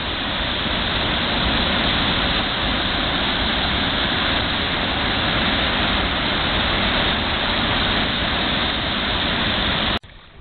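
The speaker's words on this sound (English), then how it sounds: "This is Louise Falls on the Hay River. If my voice can be heard over this noise." Louise Falls on the Hay River roars as a steady, loud, dense rush of falling water that fills the whole stretch without a break, ending abruptly at the very end.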